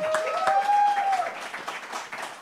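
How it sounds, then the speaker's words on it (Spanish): A live comedy show audience breaks into steady, dense applause, with a brief high whistle-like tone rising above the clapping near the start before the clapping continues evenly. "Un aplauso para ella, por favor."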